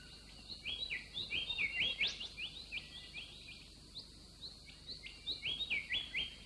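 A grey butcherbird in Australian rainforest gives a run of bright, fluting chirps and warbling notes in bursts, fairly close and alone over a quiet forest background.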